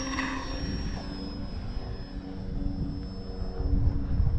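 An E-flite Valiant electric RC airplane flies overhead, its motor a steady high whine at moderate distance that fades slightly and then swells louder toward the end.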